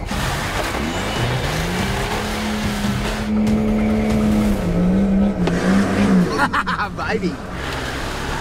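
A powerful diesel 4WD ploughs through a run of deep bog holes on a Tasmanian track, engine roaring loud and steady with revving surges and splashing, while excited voices talk and cheer over it.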